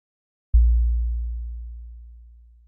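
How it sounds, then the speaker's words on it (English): A single deep synth bass note from an Operator synth starts abruptly and sustains as a pure, smooth sine tone, slowly decaying in volume, with nothing else around it. "The patch starts with an instance of operator that is just producing a sine wave."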